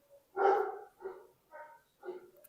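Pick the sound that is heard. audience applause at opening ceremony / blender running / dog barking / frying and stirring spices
dog barking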